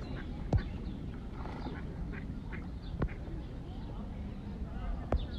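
Ducks on a city pond in Madrid give a few sharp quacks, spaced out over steady outdoor background noise, with people talking nearby.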